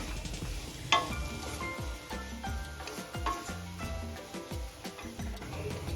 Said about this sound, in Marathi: आता हे मसाले व्यवस्थित मिक्स करायचे गॅसची फ्लेम मी लो ठेवलेली आहे